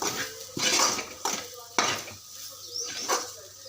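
A spoon stirring cabbage fry in a pan, with a handful of metallic clanks and scrapes against the pan over a faint sizzle, close and fairly loud.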